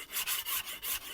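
Steel chisel being honed on a 1000 grit sharpening stone, giving steady rhythmic scraping strokes, about five back-and-forth passes in a second, close and moderately loud with no talking.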